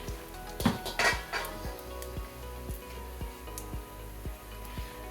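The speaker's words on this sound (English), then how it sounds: "I'm going to take some of this bacon out and put it in a mixing bowl over here" Strips of bacon being transferred into a mixing bowl in a home kitchen, a few clinks and scrapes of utensil against bowl early on, followed by soft regular ticking under a quiet background hum.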